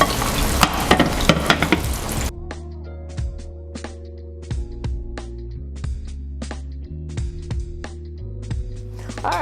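Turkey chops fry in cooking oil with a loud, crackling sizzle for a couple of seconds, which then settles into a quieter background broken by sharp clinks and stirring knocks.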